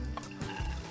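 Garlic frying in olive oil over low heat for a spaghetti bolognese gives a soft, close sizzle with faint stirring scrapes in a brief moment of cooking.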